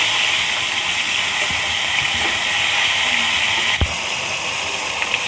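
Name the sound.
crab frying in a pan, being flipped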